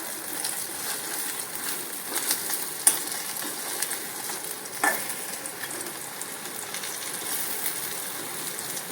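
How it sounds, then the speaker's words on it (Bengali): Green plantain slices fry in oil over low heat, giving a steady, even sizzle with a couple of faint utensil clicks and no voices. "লাল লাল করে ভেজে নিয়েছি, কম আঁচেই ভাজছি সব"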